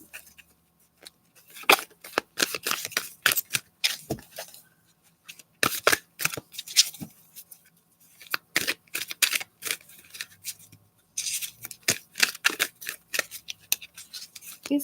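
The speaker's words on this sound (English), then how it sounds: "shuffle the cards." A deck of tarot cards is shuffled by hand in repeated quick riffles and slides, crisp papery bursts separated by short pauses, close up and with no voices.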